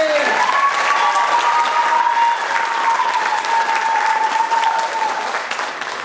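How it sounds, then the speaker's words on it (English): Sustained applause from an awards gala audience for the nominees, steady and full for about six seconds, with a voice carrying over it. "So a big round of applause for all our nominees."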